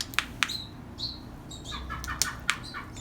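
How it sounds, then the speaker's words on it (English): A young red-morph screech owl, an orphaned bird in wildlife care, gives several short, sharp chirps in quick irregular succession, close by over a low steady background rumble. "this is one way you can hold a screech owl and be safe"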